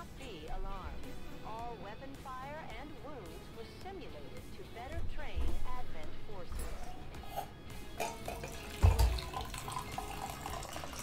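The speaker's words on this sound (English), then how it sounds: "Pour a drink." A drink being poured, liquid running steadily into a glass at close range beneath someone talking throughout.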